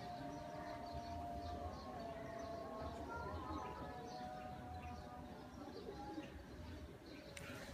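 Faisalabadi pigeons cooing in a loft, soft repeated coos under a faint steady hum and distant background noise, with no one talking.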